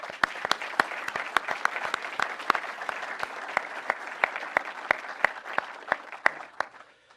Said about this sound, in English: and I want to give you all a round of applause.